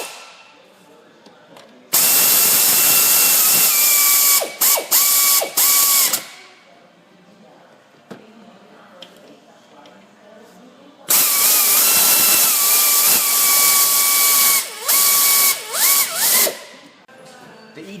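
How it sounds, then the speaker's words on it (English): Ratchet tightening EGR bolts on the upper intake of a 3.0L DOHC Ford Fusion, two long loud bursts of rapid mechanical whirring and clicking separated by a quieter pause, close up. "Then tighten your EGR bolts back up."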